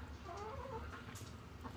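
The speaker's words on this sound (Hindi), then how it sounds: "ये देखें हमारी मुर्गी जो है, ये देखें ये बैठी हुई है अंडों पे।" A broody Aseel hen sitting on her eggs gives low, soft clucks, quiet and close in a faint farmyard background.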